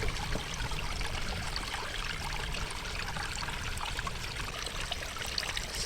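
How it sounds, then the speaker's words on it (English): Mountain stream water flowing steadily nearby, a dense continuous rushing and trickling wash that stays even from start to finish with no voices. "Water."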